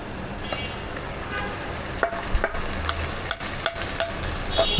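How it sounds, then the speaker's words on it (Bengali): Marinated beef for beef kosha hits a pan of frying onions, a steady hiss of sizzling oil broken by several sharp clatters and scrapes of a spoon stirring the meat, close and moderately loud. "পেঁয়াজের ভিতরে এখন আমরা মাংসটা ঢেলে দিব"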